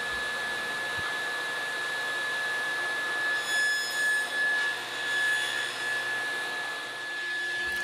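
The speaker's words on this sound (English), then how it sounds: "here I am making the shoulder cut on the table saw" A table saw cutting a tenon shoulder in wood, a steady whining motor hum with a high tonal ring, a faint, slightly louder pass midway as the blade cuts, close and continuous.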